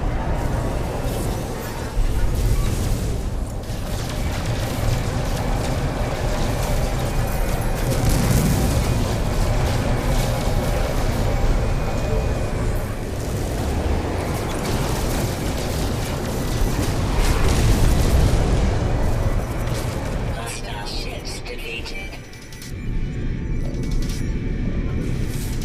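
Ship combat in No Man's Sky plays as continuous loud booms and rumbling blasts from weapons and explosions, layered with a dense mechanical hum, with a short lull near the end.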